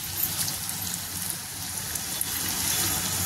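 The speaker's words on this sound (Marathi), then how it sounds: "छान भाजून घ्यायचा आहे कांदा।" Chopped onion with curry leaves sizzling in a kadhai, a steady close hiss and fine crackle like rain, continuous and fairly soft throughout with no voices.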